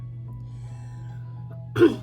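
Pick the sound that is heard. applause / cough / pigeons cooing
cough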